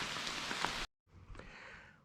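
Rain falling on a mountain during a rainy climb, heard as a steady broadband hiss that cuts out briefly to silence and then resumes slightly quieter, with no voices.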